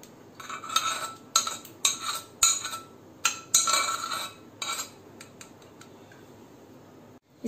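Cooked dal is drained with metal utensils, giving a series of sharp metallic clinks and scrapes at an uneven rhythm, close by, fading out toward the end.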